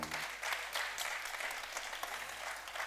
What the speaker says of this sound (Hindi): एक बार इस मंच के लिए तालियों के साथ अभिनंदन